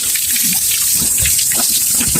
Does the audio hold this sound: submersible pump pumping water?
yes